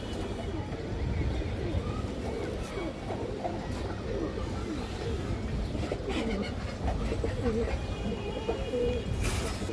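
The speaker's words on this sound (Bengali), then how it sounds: "হাইফ্লার কবুতর" High flyer pigeons coo in a dense, continuous murmur close by, layered under someone speaking throughout, with occasional brief clatter and rustling from the birds.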